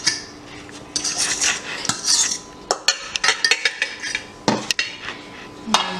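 A whisk clatters against a bowl while bananas are beaten into banana bread batter, a run of quick metallic clinks and scrapes in irregular bursts, close and fairly loud with no talk.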